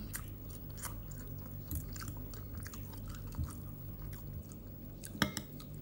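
Someone chews mackerel in sriracha chili sauce with konjac noodles, giving soft, wet, close mouth sounds and faint smacks with one brief louder crunch near the end, quiet, with no talk.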